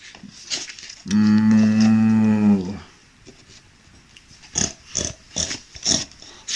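A single deep, drawn-out mooing sound made by a human voice imitating a bull, followed by faint rustling and soft clicks.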